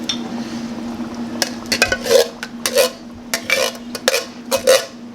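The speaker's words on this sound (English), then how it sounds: "And there's another can of tomato sauce going in." A can of tomato sauce goes into a pan of layered lasagna with cottage cheese, ground beef, onions, zucchini and garlic, with repeated close metal scrapes and clinks of a spoon against can and pan over a steady background hum.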